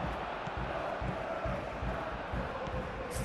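Steady broadband roar of a stadium crowd in the football game PES 21 during a Champions League match, Slavia Prague against Barcelona, sustained and fairly loud with no talk over it.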